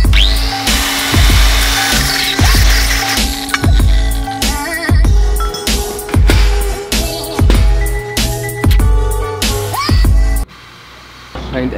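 A power drill with a worn-out bit whines in repeated bursts, revving up and cutting off again and again at close range, then stopping near the end.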